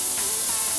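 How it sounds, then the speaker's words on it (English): Compressed air blows in a loud, steady close hiss over fresh paint on a lowrider, drying it without any talking. "Right here I'm applying air to help it dry because it's taking a little longer."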